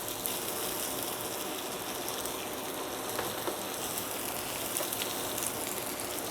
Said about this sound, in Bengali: এটাকে এখন কিছুক্ষণ ভাজবো।